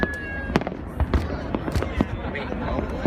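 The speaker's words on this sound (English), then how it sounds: "That's the firework." Macy's Fourth of July fireworks in 2015 boom in a few scattered bursts, with sharp thuds and crackle that are mid-distance and moderately loud, while a crowd talks and murmurs over them.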